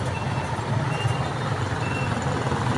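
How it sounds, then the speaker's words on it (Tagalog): Heavy stop-and-go road traffic on the way to Iba, Zambales, with a bus among it: a dense, steady engine rumble and road noise holding the whole time, close and moderately loud, with no voices. "Sobrang traffic."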